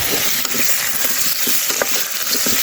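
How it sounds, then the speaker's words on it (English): Vegetables sizzle and crackle steadily in a hot pot on a woodstove, with occasional scraping stirs cutting through the constant frying hiss. "Now we're just frying the vegetables a little, just to sort of caramelise them a little bit."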